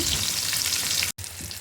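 Tomatoes fry in a pan for egg pulao, giving a steady, loud, close sizzle with a momentary break near the end. No voices are heard.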